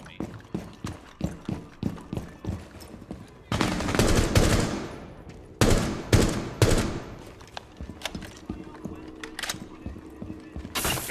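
Gunfire in Rainbow Six Siege, loud and close, first as a rhythmic series of single shots, then dense bursts of automatic fire with a pause between them, and more scattered shots afterward.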